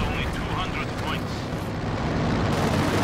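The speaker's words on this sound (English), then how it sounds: "Katusha joins the bloodbath." A Katyusha rocket artillery barrage in Company of Heroes 2 pours out a dense, continuous roar of launches and blasts, loud and unbroken, with a voice talking over it.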